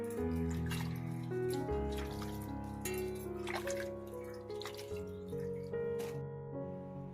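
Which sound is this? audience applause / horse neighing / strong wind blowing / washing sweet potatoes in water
washing sweet potatoes in water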